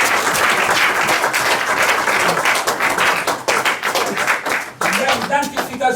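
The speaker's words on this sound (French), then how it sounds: "Si vous pouvez un peu applaudir." A church congregation during a sermon claps together in dense, sustained applause, with voices talking and calling out over the clapping.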